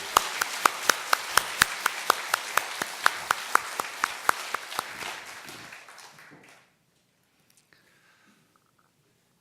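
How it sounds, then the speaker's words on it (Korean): Enthusiastic applause from a church congregation for the choir, steady rhythmic clapping for about six seconds that stops abruptly, leaving near silence. "격려의 박수 한번"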